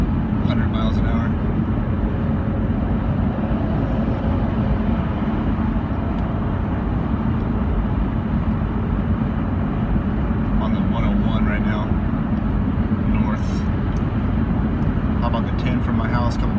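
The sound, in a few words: car speeding up from behind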